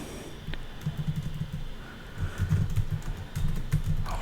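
Steady typing on a computer keyboard while entering text into a spreadsheet template, soft close key clatter in quick irregular runs, with no voices.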